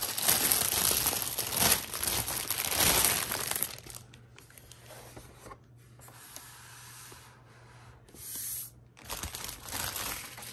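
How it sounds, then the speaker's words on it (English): Plastic wrapping crinkles and tears off a retro Nickelodeon Rocket Power alarm clock, loud and close at first, then quieter rustling with brief pauses. "We're going to unwrap this."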